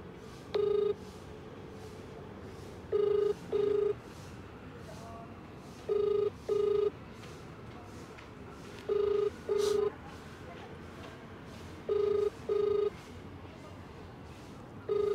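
A telephone rings unanswered: paired electronic trills repeat at regular intervals, every few seconds, against a quiet background hum.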